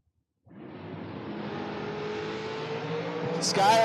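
A Camaro and a dragster launch side by side at a drag strip race, their engines breaking into a loud, sustained roar that swells steadily after a short silence and sharpens near the end.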